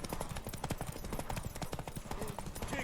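Galloping horse hooves in The Witcher 3 video game, a steady rapid clip-clop rhythm running throughout, close and fairly loud under a busy game soundscape with some voices.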